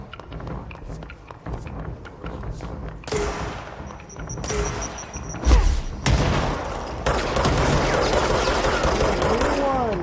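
Gunfire in the video game Control: rapid bursts of automatic fire and heavy booms and thuds, fairly loud and continuous across the stretch.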